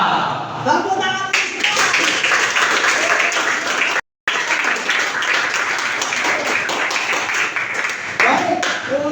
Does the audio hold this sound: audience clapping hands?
yes